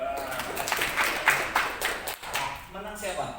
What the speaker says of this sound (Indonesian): Tepuk tangan buat Pak Bambang.